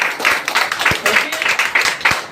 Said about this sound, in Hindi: ताली जोरदार होनी चाहिए